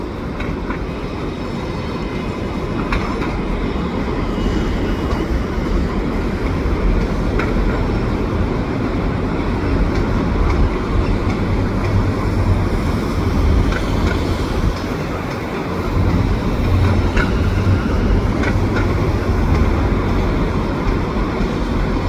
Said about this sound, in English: So this is the overnight train backing in.